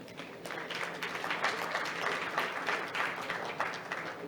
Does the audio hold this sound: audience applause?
yes